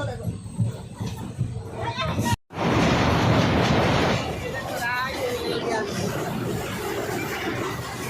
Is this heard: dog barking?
no